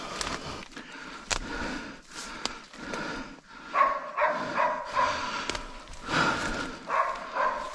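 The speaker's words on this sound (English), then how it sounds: "we can hear his dog barking in the distance" A dog barks somewhere off in the distance along a wooded trail, the sharp barks coming in scattered bursts, faint and far off, over a rustling, noisy background with heavy breathing nearby.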